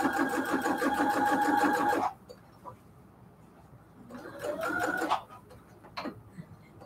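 A sewing machine stitches steadily through a quilted cathedral window pillow case in a two-second loud burst, then falls quiet before a second shorter run and a brief final whir.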